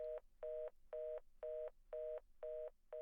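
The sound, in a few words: telephone tone in Silent Hill 3 video game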